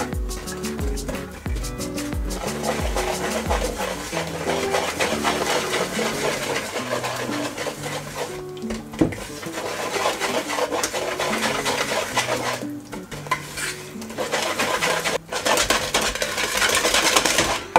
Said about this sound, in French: maintenant, vous n'avez plus qu'à mélanger tout ceci